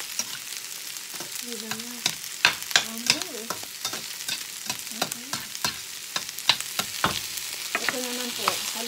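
Sautéed zucchini and leftover ground-meat picadillo stirred in a pan with olive oil, sizzling steadily while a spoon scrapes and knocks in quick, irregular strokes; someone speaks briefly over it.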